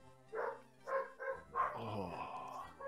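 Several dogs barking in short, separate yaps, then a longer whine-like bark trailing off, fairly close and with no talk over it.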